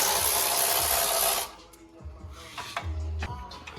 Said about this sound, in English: Get the heat shield off